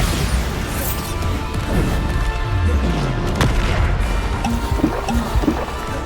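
Bombarda blasting spell going off in Hogwarts Legacy, a heavy booming crash with debris-like rumble amid continuous dense combat noise, loud and close, with a sharp impact near the middle.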